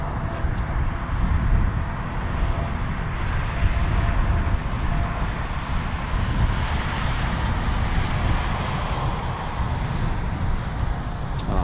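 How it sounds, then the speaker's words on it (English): An F-35B stealth jet runs its engine on the ground at RAF Marham, a continuous broad roar with wind noise that stays steady and distant throughout and never builds to a takeoff. "So sadly, that was just an engine run."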